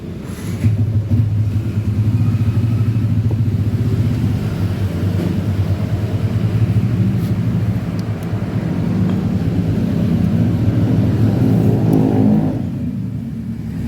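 Yamaha Aerox 155 scooter engine running hot after a short start, with a sudden-stalling fault and error code 12, giving a steady low rumbling drone close by that cuts off near the end.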